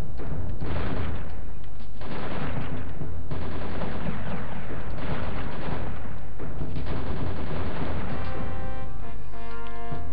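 Dense, continuous gunfire from the PS1 game Duke Nukem: Time to Kill, loud and close, with rapid bursts of shots and heavy thumps piling up over ten seconds with almost no pause.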